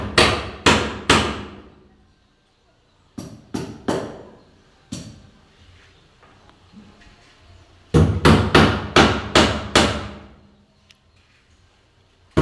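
Bursts of hammering on nails during door repair work, sharp regular blows in quick groups of three to five, separated by pauses, ringing and fairly close.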